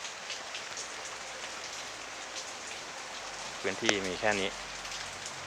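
Steady rain pattering on a sugarcane farm during a storm, a continuous hiss with a person speaking briefly near the end.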